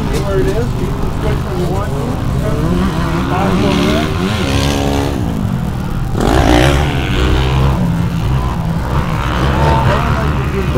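Motocross bikes, including a Rockstar Energy Drink Kawasaki, racing on a track in Brandon, engines revving and whining loudly under a race announcer's continuous commentary.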